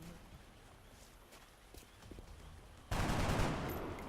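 A single loud gunshot burst from the video game XCOM: Enemy Unknown erupts suddenly after a quiet stretch, then holds a dense, noisy blast that rings on to the end.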